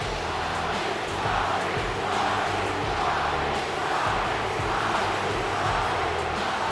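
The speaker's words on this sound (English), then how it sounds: "Listen to that crowd." A large indoor wrestling arena crowd roars steadily, a dense wash of cheering and shouting that stays loud and continuous throughout.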